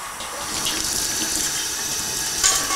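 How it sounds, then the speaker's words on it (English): Hot tap water running steadily into and around a beer keg during cleaning, a continuous splashing rush with a brief louder slosh near the end. "we're just going to give it a good rinse with hot water"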